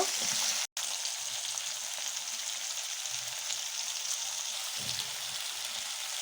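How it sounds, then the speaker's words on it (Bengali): Sweet pumpkin is stirred and fried in a pan, a continuous crackling sizzle like light rain, with a brief gap and faint scraping of a spatula underneath. "দিচ্ছি মিষ্টি কুমড়ো, অল্প নেড়ে নিচ্ছি।"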